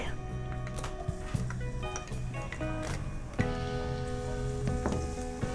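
Annatto seeds and garlic sizzle in hot oil, a close, steady crackle and hiss with scattered pops and a few utensil clinks, while a person talks over the frying.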